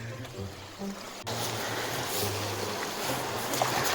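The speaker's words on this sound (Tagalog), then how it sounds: "River crossing!" River water splashes and rushes steadily during a river crossing on a ride, a continuous broadband wash that grows louder after a sharp knock, with low engine-like hum and faint voices underneath.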